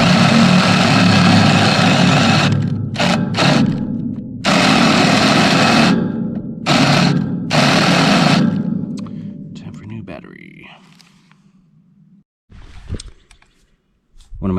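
A Ryobi drill with a half-inch bit cuts in several loud, close whirring bursts with short pauses between them. It then winds down to quieter, scattered noises near the end.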